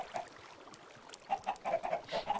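Chickens from a chicken spawner in a modded Minecraft game cluck softly in short repeated bursts, quiet and close, over a faint steady background hiss.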